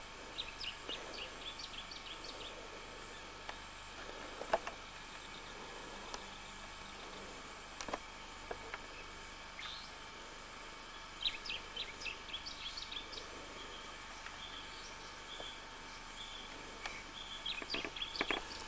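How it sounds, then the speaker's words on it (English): Small bird chirps in a tree at Red Lily Billabong in short, scattered bursts over a quiet outdoor background, with a faint distant vehicle rumble. "This little bird just landed in the tree while"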